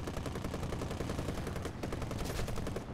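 Rapid bursts of aircraft gunfire rattle in War Thunder during a Spitfire dogfight, a dense, fairly quiet stream of shots that keeps going without a break.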